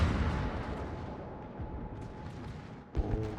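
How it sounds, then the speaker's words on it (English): Heavy naval guns of the battleship Shikishima fire in a naval warfare video game, a deep rumbling boom fading over a few seconds, followed by another sharp blast near the end. "I hear Shikishima shooting."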